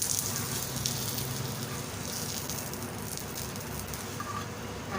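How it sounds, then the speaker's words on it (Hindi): Aloo paratha frying in ghee on a pan over a low flame, giving a steady, soft crackling sizzle that holds evenly throughout with no talking. "हम इसे स्लो आंच पे सेक रहे हैं"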